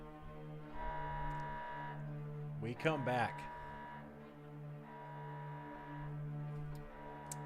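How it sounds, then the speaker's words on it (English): A klaxon alarm blares in repeated long, low droning pulses with a regular on-off rhythm, sounding behind a brief stretch of speech in the middle. "You hear an alarm klaxon."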